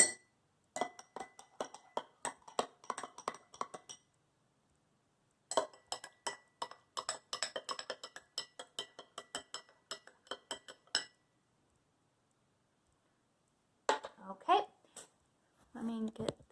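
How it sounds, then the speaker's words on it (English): A utensil clinks and taps against a glass while a yeast mixture is stirred, rapid light chimes in bursts separated by pauses. "And then use whatever you brought to stir with"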